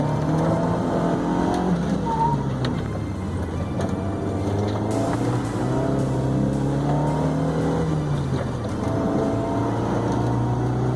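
A small car's engine revs and shifts through gears on an autocross course at Evergreen Speedway, running on old-school budget tires; the loud, steady motor tone rises and falls with each gear change, close to the microphone, with no talk.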